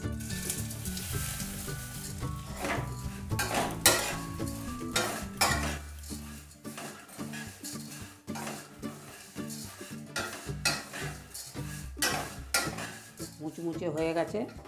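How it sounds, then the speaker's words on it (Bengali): Flattened rice frying in a spoonful of ghee in a hot kadai for laddu, with continuous sizzling and repeated scraping, clinking stirs of a spoon against the pan, close and fairly loud over background music. "चिड़ेगुलो भेजे नेब।"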